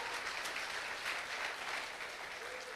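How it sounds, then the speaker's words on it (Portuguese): Church congregation applauding during a sermon, steady dense clapping from many hands throughout, fairly close and even in level. "Pode aplaudir a Jesus, sim."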